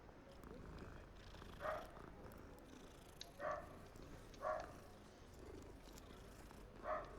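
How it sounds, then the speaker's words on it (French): A cat purring in the video game Hogwarts Legacy, a soft low continuous purr with four brief brighter chirps spaced across the clip, faint and quiet, with no voices. "Ah, un petit chat, j'ai envie de le caresser."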